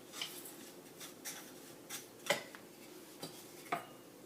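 Pear jam being stirred in a pot: faint, sparse scraping and clinking of a utensil against the pot, in quiet irregular strokes about every half second.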